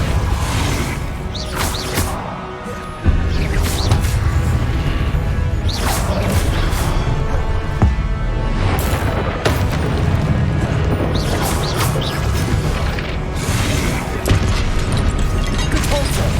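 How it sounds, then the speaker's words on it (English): Hogwarts Legacy spell combat with Expelliarmus and Depulso cast in quick succession: loud crashing impacts, sharp booms and whooshes over a dense battle soundscape, with a sudden louder burst partway through. "Expelliarmus! Depulso!"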